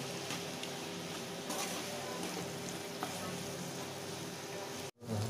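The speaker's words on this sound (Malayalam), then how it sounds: "തക്കാളിയും സവോളയും ഈ എണ്ണയിൽ കിടന്ന് നന്നായി വഴന്ന് വരുന്നു" Tomatoes and onions sauté in hot oil for a prawn roast, giving a steady, close, dense sizzle that runs continuously before cutting off abruptly near the end.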